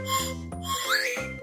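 A candy lollipop with a slide whistle on its stick is played, its bright whistled tone sliding up and down in pitch over a few short breaths, close and fairly loud.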